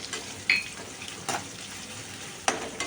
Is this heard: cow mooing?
no